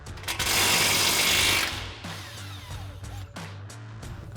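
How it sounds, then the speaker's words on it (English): An impact wrench with a 19 mm socket unbolts a strut mount on a 2015-2020 Ford F-150; a loud, dense rattling burst lasts about a second and a half, then gives way to lighter mechanical clicks and ticks. "So ours is going to be a 19 mil wrench and a 19 mil socket on our impact."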